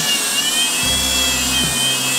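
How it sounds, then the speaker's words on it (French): Power drill with a mixing paddle stirring grey tinted coating in a small bathroom, a steady loud whine whose pitch shifts as the motor load changes partway through, with no talking. "je viendrai mélanger après avec ma perceuse"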